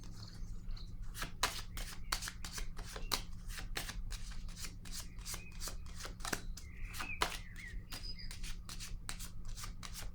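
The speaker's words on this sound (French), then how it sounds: "Je vais déposer une carte sur la destinée." Tarot cards shuffled by hand in a long run of quick, crisp riffling snaps and slides, close and fairly quiet, over a low steady hum with no talking.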